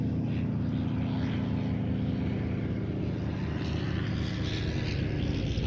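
A Nieuport 17, a vintage First World War fighter, flies past at an airshow with a steady, continuous propeller engine drone that holds a fairly even level throughout, moderately distant and without any voices.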